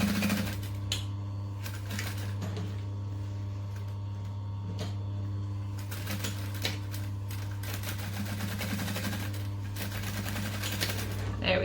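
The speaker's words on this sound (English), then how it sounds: "I'm going to top stitch 1/8 of an inch from that join" A sewing machine runs steadily while top stitching a seam, giving a constant motor hum with uneven rapid clicking bursts, close and moderately loud.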